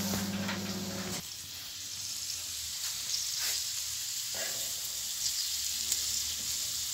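Butter sizzles steadily in a pan while galjoen fish is basted, a constant bright crackle with occasional stirring and scraping clicks, heard alone at a moderate distance.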